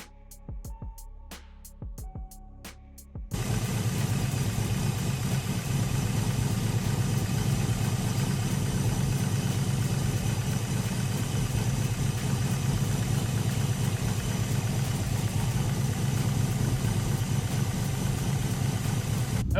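A Subaru WRX engine starts after a few seconds of clicks and ticks, then idles steadily and close up with an even, continuous rumble for the rest of the clip. No one talks.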